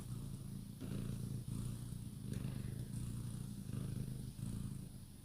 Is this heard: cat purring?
yes